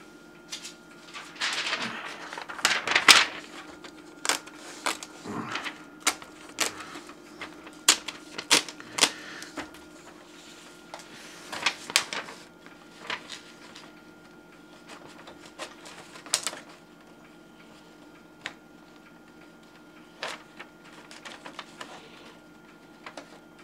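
A Brother HL-2035 laser printer runs thin continuous paper, giving a steady mechanical hum with irregular sharp clicks and ticking bursts scattered throughout at a moderate, close level.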